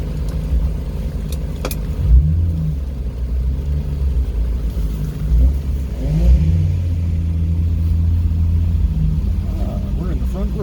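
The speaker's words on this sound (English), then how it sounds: "We're going to be having cars exiting right through here" Race cars leave the MSR Cresson track in the rain, their engines droning low and steady with revving surges near 2 and 6 seconds, close by and continuous, while people talk over them.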